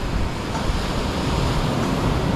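Steady, loud broadband rush of ocean surf surging close to a shore with a hut and a beached boat, unbroken roar with wind buffeting the microphone throughout.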